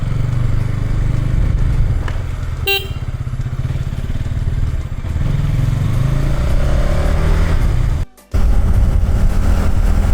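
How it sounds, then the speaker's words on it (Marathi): A sports bike engine drones steadily while riding, a loud close-miked hum of wind and exhaust, with a brief metallic clatter early on and a momentary cut near the end. "खूप टायमानंतर अशी स्पोर्ट्स बाईक चालवतोय मी."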